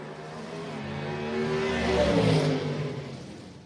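Gasser drag race car launching wheels-up at Shadyside Dragway, a mid-pitched engine roar swelling as it accelerates away, heard from a moderate distance and fading toward the end.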